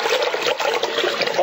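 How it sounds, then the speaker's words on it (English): Tap water pours steadily into a bowl, a loud continuous rushing splash with no break and no voices, being drawn up as the first step toward dyeing ties. "we want to fill up a bowl here"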